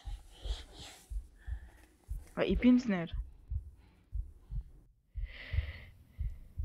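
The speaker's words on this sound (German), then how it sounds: "wer verdammt schnauft dann da so grausig?" Eerie, heavy snorting breath from a creature in the horror video game Among the Sleep, one loud raspy burst mid-clip over a low throbbing heartbeat-like pulse, with someone talking before and after.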